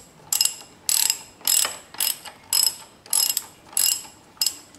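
A wrench ratchets repeatedly while loosening the handlebar riser bolts on a Yamaha XV 250 Virago, about eight bursts of clicking in a steady rhythm, close and fairly loud with no talk.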